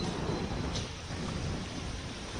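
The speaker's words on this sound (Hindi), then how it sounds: "तेज आंधी भी चल रही है और बारिश भी हो रही है।" Thunderstorm sweeping Delhi-NCR in May, strong dust-laden wind driving heavy rain; a steady, dense roar of rain and gusting wind with a low rumble underneath, continuous throughout and no voices.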